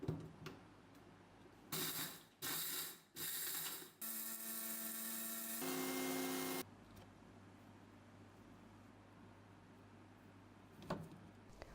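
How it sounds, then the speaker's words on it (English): Kitchen mixer grinder blending roasted masala spices to a fine powder, several short loud whirring bursts followed by one longer sustained high-pitched grind, then it stops. "Going to cover this and I'm going to blend this to a fine powder."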